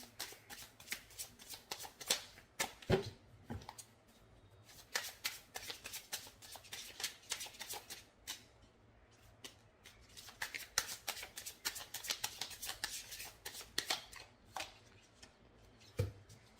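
A deck of tarot cards is shuffled by hand, making a long run of close, quick riffling flutters and soft slaps in bursts with brief pauses, with no speech.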